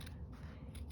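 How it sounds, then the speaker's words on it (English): Non-fabric scissors cut paper for junk journal scraps, with a few quick, close snips and crisp slicing rasps. No one speaks. "clearly not fabric scissors, but they'll do."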